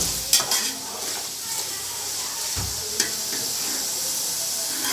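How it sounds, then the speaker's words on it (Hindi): Chilies, turmeric, salt and biryani masala frying in a pot, with a steady sizzling hiss and a few clanks of the spoon stirring. "थोड़ा सा हम इसे फ्राई करेंगे।"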